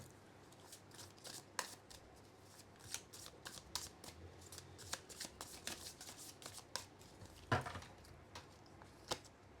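Tarot cards being shuffled and drawn during a reading, a steady run of soft papery riffles and flicks with a few sharper snaps, fairly close and quiet, with no talking.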